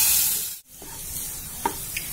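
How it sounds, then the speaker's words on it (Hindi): Two hundred grams of khoya roasting in a preheated kadhai for moong dal halwa gives a steady, close sizzling hiss, with a few faint scraping ticks from stirring and no talk. "अब मैं इसमें सबसे पहले खोया भूनूंगी।"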